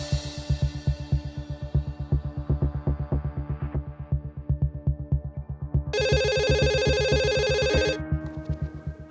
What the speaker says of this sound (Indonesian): Aku telepon polisi dulu ya